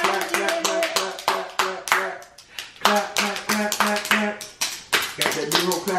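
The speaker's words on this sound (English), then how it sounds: "Clap, clap, clap, clap." A child claps hands in a quick run of sharp, close claps, pausing briefly midway before carrying on, with an adult's voice and music-like tones mixed underneath.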